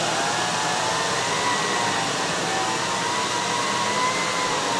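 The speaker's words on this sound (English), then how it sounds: "Jonathan has chosen a machine very special to me, 1980 Electrolux Olympia 1 1401B" A 1980 Electrolux Olympia 1 1401B canister vacuum cleaner with an upgraded hose runs steadily, a loud continuous whirring motor hum with an airy rush that stays even throughout, with no voices.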